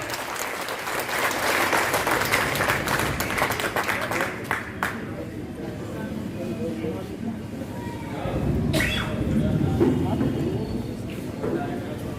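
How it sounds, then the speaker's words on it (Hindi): Loud applause fills a town hall at a private schools association annual function after a lamp-lighting, sustained and crowd-wide with voices mixed in, swelling again toward the end. "एक जोरदार ताली हो जाए"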